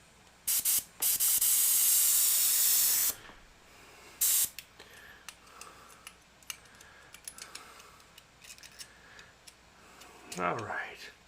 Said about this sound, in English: This airbrush was not cleaned too well last time.